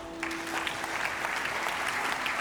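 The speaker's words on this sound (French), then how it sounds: "vous pouvez vous applaudir pour démarrer déjà" A conference audience claps in a packed hall at a Work Talks event in Lyon, a dense, steady round of applause sustained throughout, with no speech over it.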